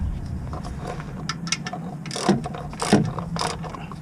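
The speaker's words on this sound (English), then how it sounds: "Then I tighten it up" A ratchet tightens the oil drain plug on a Ford 3.7L engine, clicking in short bursts of rapid pawl clicks with brief pauses between strokes, heard up close.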